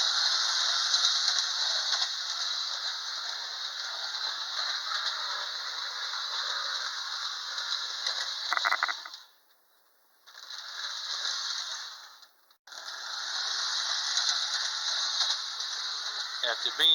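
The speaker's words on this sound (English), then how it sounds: "we're going to give it a run around the track, forward and backwards" A rescued, long-buried Wyandotte Hafner toy train runs around its track forward and backward with a steady mechanical rattle and whir, briefly stopping twice before resuming, close and continuous.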